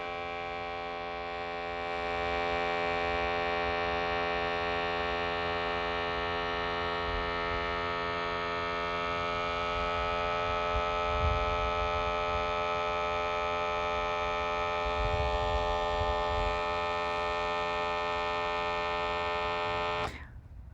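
A Scotts Professional sprayer's electric pump pressurizes with a steady, buzzing mechanical hum that holds constant for about twenty seconds and then cuts off abruptly.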